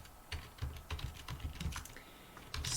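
Quiet, close keyboard typing, a quick irregular run of soft key clicks with no talking.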